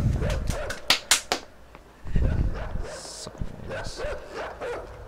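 A dog barks in a game, a series of short, sharp barks and yips, some close and loud, mixed with a person talking and other game sounds.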